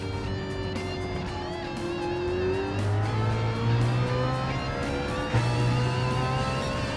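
A BMW M3 lapping a race track, its engine revving and climbing through gears with rising and falling pitch, loud and steady from the cockpit, with a brief bump partway through and no talking.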